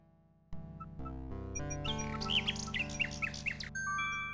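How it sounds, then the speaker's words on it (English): Little bird chirping in the King's Quest VI video game: a run of bright, quick chirps and squeaks over steady synthesized game music, clear and close, with no talking. "The little bird makes a delivery."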